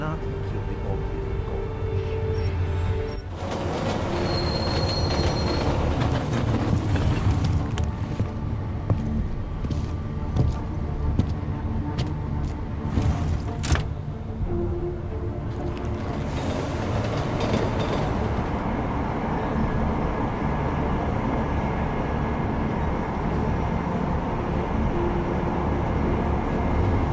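In the video game Deus Ex Mankind Divided, a train rides along the rails with a steady low rumble and faint rhythmic clatter. The sound runs throughout, with brief mechanical clanks and muffled voices talking on board.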